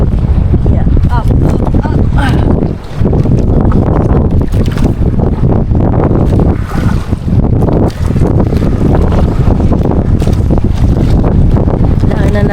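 Strong wind at sea buffets the microphone on a boat, with a loud, continuous roar and rushing water through the whole stretch.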